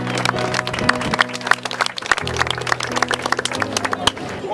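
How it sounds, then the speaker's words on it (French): Scattered applause from a group of cigarette-butt collection race participants, brisk uneven claps over steady voices and chatter, ending with a host continuing to speak. "On peut s'applaudir."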